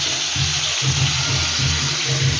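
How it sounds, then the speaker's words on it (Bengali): Water pours steadily into a cooking pot of nearly finished food, a loud, continuous rushing splash from start to finish. "এটা জল ঢেলে দেবো, মাখা মাখা হবে"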